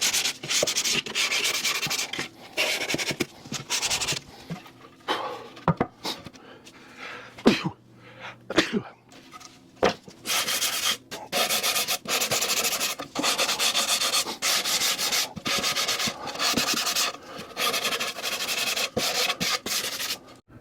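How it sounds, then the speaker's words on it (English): Hand sanding scrapes fuzz off a Coleman heater box in close, rhythmic back-and-forth strokes, with short pauses between bursts of rubbing. "So now I need to take and sand off all these fuzzies."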